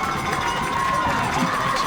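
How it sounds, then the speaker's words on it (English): A crowd on the sideline of a high school boys varsity lacrosse championship in Concord, Massachusetts roars steadily, a dense wash of cheering and shouting that stays constant and loud throughout. "the crowd is getting rowdy on the sideline"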